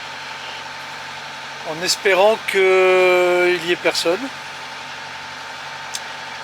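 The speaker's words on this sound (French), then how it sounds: "Donc au moteur depuis plusieurs heures." Sailboat motoring under engine power at sea, a steady low engine drone throughout, with a person speaking briefly over it.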